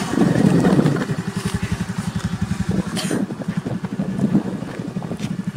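A Honda Aviator 110 cc scooter engine runs nearby with a steady, rapid putter of regular pulses that swells slightly at the start, with some wind noise over the microphone.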